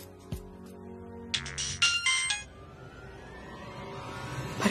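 A phone rings with a brief bright electronic chime burst, a short tonal jingle lasting about a second amid a quiet room with soft background clinks.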